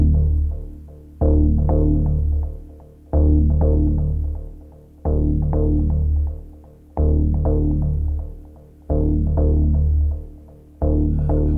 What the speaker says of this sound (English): starts immediately with a sequence of low synthesizer notes